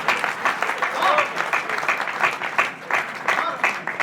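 An audience at a Kavi Sammelan poetry gathering in Sabalgarh breaks into steady, dense applause, many hands clapping together at a moderate distance for several seconds.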